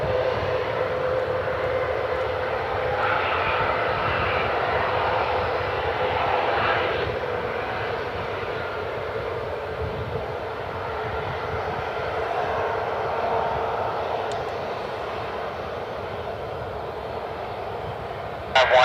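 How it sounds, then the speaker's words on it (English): A United airliner bound for Chicago takes off at Cleveland Hopkins airport, a steady, loud jet engine roar that swells and holds across the whole stretch with no talking. "And United finally got their takeoff clearance,"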